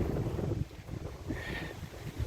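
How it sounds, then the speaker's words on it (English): Low rumbling wind buffets the microphone outdoors, gusting unevenly with a brief higher whine in the middle. "Well, it's windy out, cool out"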